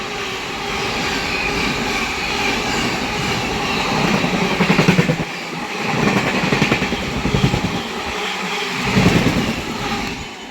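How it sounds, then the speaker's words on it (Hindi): The IRCTC Tejas Express from Lucknow, a private train, races past at full speed with a loud, sustained roar and rhythmic rattling of the cars that swells and fades in waves. "तेजस एक्सप्रेस, पहली प्राइवेट ट्रेन फुल रफ्तार में।"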